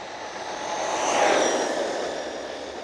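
An RC car on a 3S battery running at full throttle, a whining motor that swells as it passes close, then fades slightly, with no voices.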